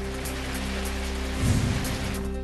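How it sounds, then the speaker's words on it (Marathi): Heavy monsoon rain in Shirala taluka, Sangli, after three days of downpour, hisses steadily over a low electrical hum, with a brief dull thump partway through. "सांगलीच्या शिराळा तालुक्यात गेल्या 3 दिवसांपासून धुवाधार पाऊस"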